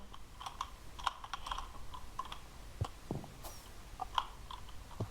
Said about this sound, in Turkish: Hemen slash lobby yazıyorum